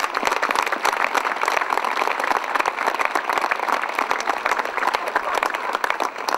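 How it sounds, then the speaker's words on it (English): Graduates at a Durham university congregation ceremony clap for themselves, a dense, even burst of many hands filling the hall without a break. "Give yourselves a clap."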